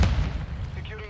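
A short, sharp grenade blast in the Call of Duty Modern Warfare II video game, one loud low thump that decays quickly into rumble.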